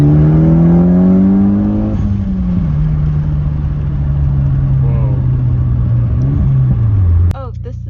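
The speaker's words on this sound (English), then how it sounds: "Should we do a little pull? A little pull again?" A Mitsubishi Evo X engine revs hard under a full-throttle pull, its loud droning tone climbing then holding steady near the cabin before dropping off, with voices talking over it.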